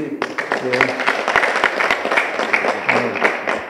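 An audience at an Ethiopian Orthodox church gathering claps, a steady patter of many hands at moderate loudness with murmuring voices mixed in.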